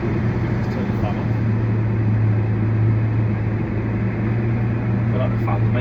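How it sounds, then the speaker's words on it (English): Inside a moving car, the cabin ventilation fan blows a steady broadband whoosh over a low engine and road hum, constant and close throughout, with a voice speaking faintly. "Let's turn the fan on."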